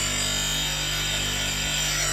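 High-speed CBN wheel grinder sharpening a woodturning spindle gouge, giving a steady close whine and hiss of metal on the wheel that holds unbroken throughout, with no voices.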